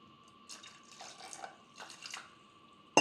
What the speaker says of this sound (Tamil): தண்ணி வந்து இந்த காய் மிதக்கிற அளவுக்கு தண்ணி ஊற்றிருக்கிறேன்.